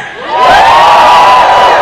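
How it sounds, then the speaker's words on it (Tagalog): A large crowd at an outdoor political rally in the Philippines erupts in loud sustained shouting and cheering, swelling quickly and holding at full volume. "Sumigaw lahat ng ayaw kay Duterte."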